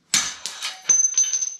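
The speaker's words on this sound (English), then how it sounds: "I'm going to use a hammer to slam this bottom bearing out" A hammer strikes a steel fork bearing on a pit bike front fork, giving a sharp ringing hit followed by a quick run of lighter metallic taps, close and clear.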